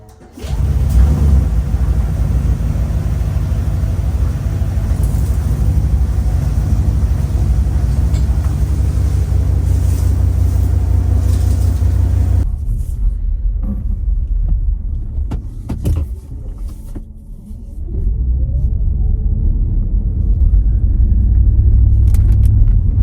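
A GMC Yukon Hybrid with a rebuilt 6-liter engine drives along the road, giving a steady, loud low rumble of engine and road noise from inside the cabin, briefly dipping near the end before resuming.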